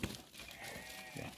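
Dairy goats on a farm bleat with a wavering, sustained cry that rises over faint barnyard noise, close to the microphone and heard alone without talk.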